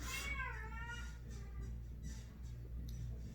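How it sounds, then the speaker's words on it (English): A cat meows a few times close by, with a short rising cry at the start and quieter mews after, over a steady low hum. "I got a cat."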